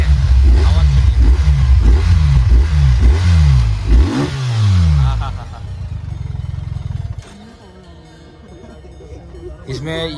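A superbike engine revs hard in repeated bursts for several seconds, a loud, throaty exhaust note, then settles into a steady idle rumble.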